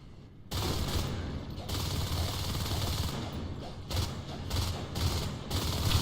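Sustained light machine gun fire from two LMGs in Natural Selection 2, a dense continuous rattle of rapid shots with brief bursts and short pauses, loud and close, with no voices over it.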